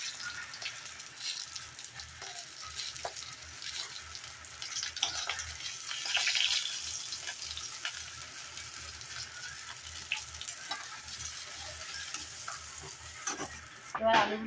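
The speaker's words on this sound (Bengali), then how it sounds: "এবার আলুগুলোকে ভেজে নেব।" Potatoes fry in hot oil in a pan while a Bengali fish curry is being made, giving a continuous close sizzle broken by scraping stirs and a few louder spattering bursts near the end.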